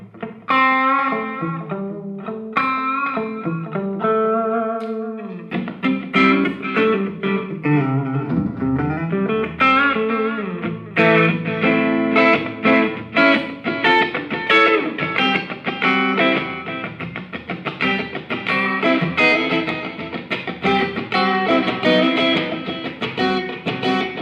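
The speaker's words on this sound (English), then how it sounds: "So here's a nice clean tone with just a nice snapback delay on there." Electric guitar played through a Blackstar ID:60 combo amp on a clean tone with short snapback delay, picked notes and chords ringing out clearly with echoes trailing behind, loud and alone.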